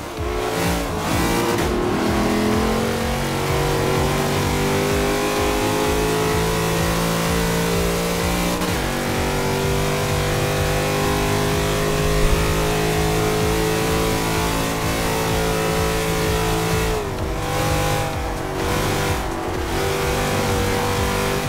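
A Corvette Stingray race car engine in the Forza 5 video game drones loudly and continuously, holding a steady high revving tone that shifts pitch through gear changes and corners, with no talking.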